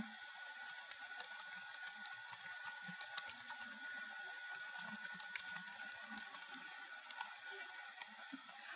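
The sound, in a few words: typing on a computer keyboard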